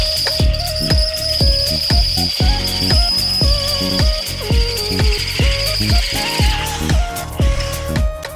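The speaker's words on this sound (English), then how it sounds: "Then opening up the hole with a 10mm drill bit." An Ozito 18V brushless cordless drill widens a hole in steel with a 10mm bit, giving a steady close whine broken by rapid, evenly spaced ratcheting clicks throughout, with no voices.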